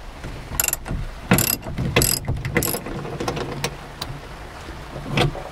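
Ratchet with a long socket working an 18 mm rear seat belt bolt in a 2015+ Dodge Challenger, a series of quick close clicking bursts with short pauses between strokes.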